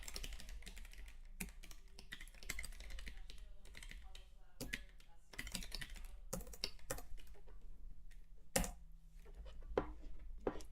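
Steady typing on a computer keyboard while programming, with rapid close-up key clicks and occasional louder keystrokes, broken by brief pauses and a faint voice at times.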